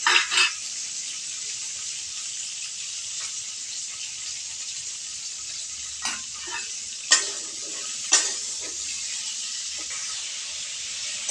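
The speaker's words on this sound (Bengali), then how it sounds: "বরবটিগুলো হালকাভাবে ভেজে নেব সামান্য লবণ এবং হলুদ দিয়ে দিব" Yardlong beans frying lightly in oil with a little salt and turmeric give a steady, soft sizzle throughout, broken by a few brief stirring scrapes and clinks near the middle and end, with no talking.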